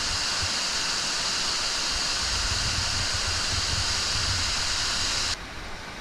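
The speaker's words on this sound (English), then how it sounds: "sit down and enjoy the sound of the waterfall" Walupt Creek Falls pouring steadily, a loud continuous broadband rush of falling water heard close, unbroken for over five seconds before dropping slightly quieter.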